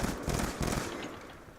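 Rapid burst of automatic gunfire in a video game, a dense loud crackle of shots in the first half that trails off into a softer rumbling tail.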